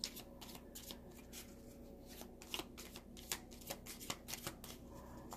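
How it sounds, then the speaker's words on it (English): Small pocket oracle cards being shuffled by hand, a steady papery riffling with a few sharper snaps, close and fairly quiet, no talking. "Let's shuffle."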